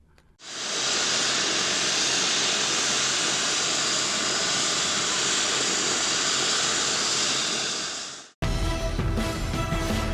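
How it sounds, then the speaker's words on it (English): Special mission helicopters of the Nigerian maritime agency NIMASA run up during an operational readiness demonstration, a loud, steady engine and rotor roar that holds for about eight seconds before cutting off abruptly. "the special mission helicopters were wired up to demonstrate the operational readiness of the platform"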